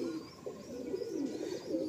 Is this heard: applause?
no